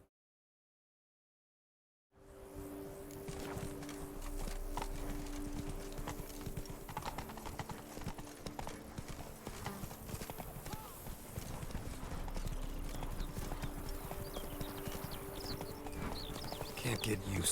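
A horse gallops in The Witcher 3 video game, its hooves clip-clopping in a steady rapid rhythm that runs continuously and loudly after a brief silence, with voices heard alongside.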